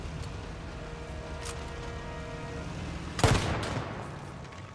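An HE round fired at a tank in Arma 3 lands as one sharp, heavy blast with a short rumbling tail, standing out above a constant background of distant gunfire and battlefield noise.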